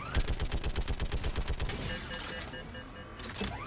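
Rapid bursts of gas turret gunfire from the Mass Effect 3 Legendary Edition video game, a fast rhythmic volley for about two seconds, then fading into lighter mechanical game effects.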